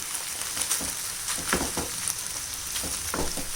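Chicken mince mixed with tomato ketchup cooks in a pan over a low flame, a moderate steady sizzle with scattered spatter pops and light stirring scrapes, close and without talk.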